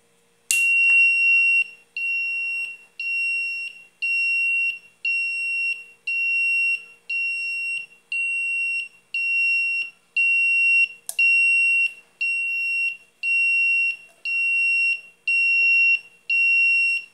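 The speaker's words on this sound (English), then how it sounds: "555 timer buzzer circuit." A 555 timer buzzer circuit combined with an LED flasher beeps in a steady, even rhythm, about fourteen loud, piercing electronic tones in a row with short gaps, heard alone and close.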